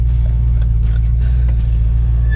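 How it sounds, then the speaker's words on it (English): A Fox-body car, basically stock and low on gas, heard from inside during an acceleration run, with a loud steady engine drone and rumble throughout and some faint knocks above it. "I'm trying to do a little just acceleration test, just see what she does."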